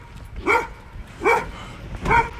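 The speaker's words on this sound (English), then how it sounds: "Look at these dogs." Dogs bark three times at a steady pace outside on a game day. The barks are close and moderately loud, with quiet gaps between them.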